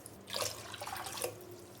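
Water rinsed from a mixer jar poured out while making green dum biryani, a short faint splash and trickle with no talk.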